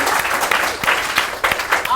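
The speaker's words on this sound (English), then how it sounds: "Well, clap." A studio audience at a children's quiz show bursts into applause, a brief, fairly loud spread of many hands clapping that holds steady for a couple of seconds with faint voices underneath.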